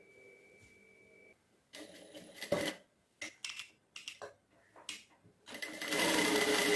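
Sewing machine stitching an invisible zip in a tailoring setting, running in several short bursts of whirring stitches with pauses between, ending in a longer sustained run; close and moderately loud.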